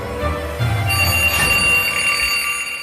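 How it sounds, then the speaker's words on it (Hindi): A ringing alarm clock wakes someone in a horror story, with a bright, sustained metallic bell tone that starts softly and swells louder partway through, then rings steadily to the end, with no voices. "अलार्म से जेसन की आंख खुली"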